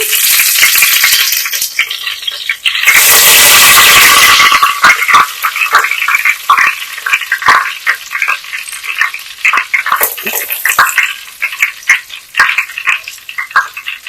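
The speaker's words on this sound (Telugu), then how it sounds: "కాగిన తర్వాత అందులో మనం కరివేపాకు వేసుకుందాం" Curry leaves hit hot oil with a loud burst of spitting sizzle that settles into irregular crackling and popping, close up and without speech.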